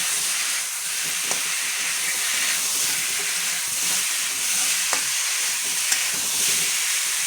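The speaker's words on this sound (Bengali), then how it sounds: "এখন আমি সুন্দর করে মশলাটা কষিয়ে নেব আলু দিয়ে।" Spice paste sautéing with potatoes, turmeric and salt sizzles steadily in the pan, with a few sharp utensil clicks and stirring scrapes, no voices.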